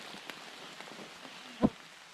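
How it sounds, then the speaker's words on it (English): Rain falls on a muddy forest trail in Canada, a soft constant patter of scattered drops with one sharper close tap, fairly quiet and with no talking. "if we had rain like this for more than a day or two, this is a quagmire"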